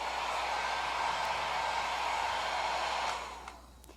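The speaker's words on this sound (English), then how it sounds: "When I dry my salad greens, I don't put them in a salad spinner. I use a blow dryer set on cool." A blow dryer set on cool whirs with a steady broadband rush as it dries salad greens, then drops in level and winds down near the end.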